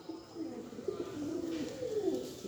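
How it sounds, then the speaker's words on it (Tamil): Fantail (peacock) pigeons coo softly and continuously nearby, low throaty warbling calls overlapping across the clip against a faint background hiss. "ஆக மொத்தம் இங்கே 3 மயில் புறாக்களுக்கு 3 பேர்."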